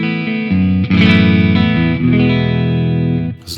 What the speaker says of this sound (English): Turn the reverb on again.